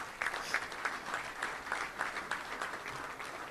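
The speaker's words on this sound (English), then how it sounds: "Let's give all of them a round of applause today," Audience applause at a Little Rock Touchdown Club luncheon in a hotel ballroom, a steady run of many hands clapping that holds evenly throughout, fairly close and full, with no talk over it.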